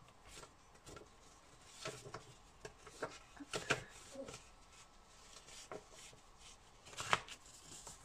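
Paper for a scrapbooking mini album being folded twice on a work surface, giving soft, dry crinkles and sharp creasing snaps at close range with scattered quiet handling rustles between them.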